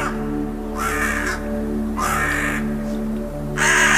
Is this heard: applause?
no